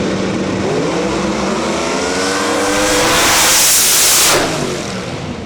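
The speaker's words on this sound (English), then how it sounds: "The Coast Camaro coming at us in hour lane." A 6th generation Camaro pro mod drag car screams past at full throttle in a race lane, loud and sustained, rising to a peak as it passes close and then fading slightly.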